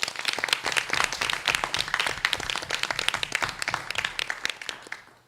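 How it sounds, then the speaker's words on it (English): A school board meeting audience claps continuously for about five seconds, a dense patter of many hands that tapers off at the end. "another round of applause"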